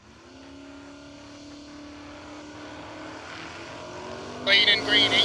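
Drag race cars at an East Coast drag strip, including a 1969 Camaro, accelerate down the track in a rising, droning engine roar heard from a distance, with a louder burst of engine noise near the end.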